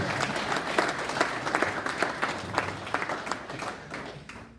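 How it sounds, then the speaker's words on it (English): A crowd at a high school boys' soccer alumni social applauds program alumni, with many hands clapping at once and some sharper individual claps standing out. The applause stays moderately loud throughout and fades slightly at the end. "Let's give a round of applause."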